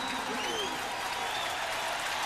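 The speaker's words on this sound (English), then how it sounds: "One of the things that we'll look for today is this extreme crowd noise." Loud, sustained roar of a stadium crowd at a 1996 college football game between Florida and Tennessee, a dense wash of cheering and noise filling the whole moment with faint voices mixed in.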